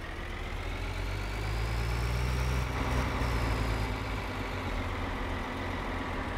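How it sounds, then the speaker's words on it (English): A heavy tractor engine in a video game runs steadily, a loud, low rumbling drone with a slight rise in pitch midway, no voices. "Let's just bring up this tractor up."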